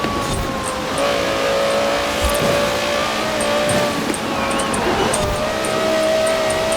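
Car engine racing hard in Forza Horizon 4, a loud, sustained high-revving whine that rises and dips through gear changes, with light tire noise underneath and no talking.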